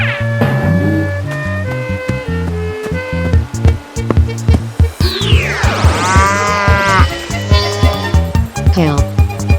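Cartoon cow mooing over bouncy children's music, a drawn-out moo with sliding pitch near the middle among other playful effects, loud and upfront.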